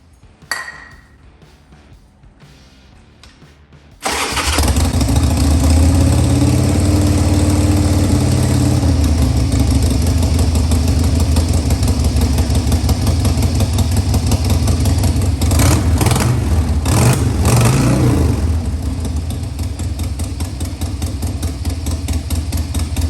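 Harley-Davidson Sportster motorcycle engine, carburetor still needing a rebuild, catches after quiet fiddling and settles into a loud, close, lumpy idle, with a few blips of revving partway through before dropping back to idle.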